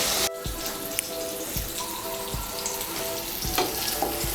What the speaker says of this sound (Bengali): আঁচটাকে মিডিয়াম করে আমি পটলগুলোকেও লাল করে ভেজে নেব।